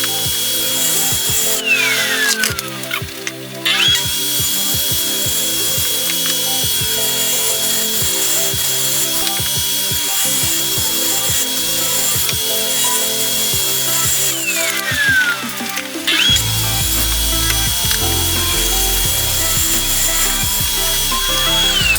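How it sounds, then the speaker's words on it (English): A table saw rips oak into 2-inch strips for an end grain cutting board, a loud continuous whine with the pitch dropping as the blade bites into each cut. Two passes come through clearly, with no speech. "bring your piece of oak over to your table saw and begin ripping down 2-inch cuts"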